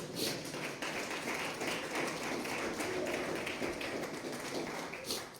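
Congregation clapping hands during a church service, a steady rapid patter of many palms, fairly quiet and somewhat distant, with occasional louder claps.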